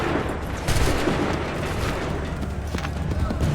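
Musket volley gunfire in the Assassin's Creed III video game, a dense, continuous crackle of shots with booming low rumble throughout, loud and close, with shouted voices mixed in.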